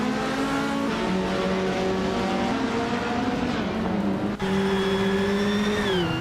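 A 1964 Abarth 850 TC Corsa race car in a racing video game holds a loud, steady high-pitched engine drone, then a brief gear-change dip before the revs climb again at a constant close distance.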